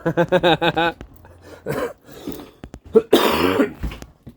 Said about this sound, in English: Pardon the cough, ladies and gentlemen.